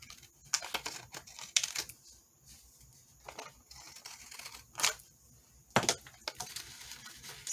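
Paper being trimmed while making a mini journal, with a handful of short, sharp cutting and tearing sounds spaced apart against quiet background, heard close.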